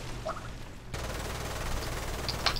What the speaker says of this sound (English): That machine gun, too, is deadly.